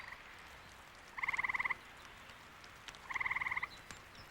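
A frog croaking in spring, two bursts of rapid pulsed trilling calls separated by a pause, clear and fairly close over a quiet background.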